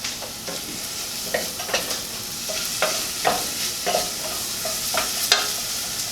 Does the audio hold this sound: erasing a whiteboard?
no